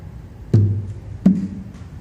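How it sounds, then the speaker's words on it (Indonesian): Two deep bass strokes on a kendang hand drum, played koplo style, each a sharp hit with a short booming low resonance, about three quarters of a second apart, close and clear with no talk. "Dan cara menabuh bassnya seperti ini."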